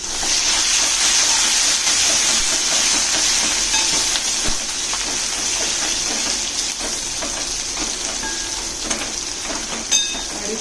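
A pinch of asafoetida, ginger, green chili, dried red chilies and curry leaves sauté in hot oil for a Gujarati sweet-sour dal tempering, giving a loud, steady sizzle and hiss that runs throughout with occasional faint pops.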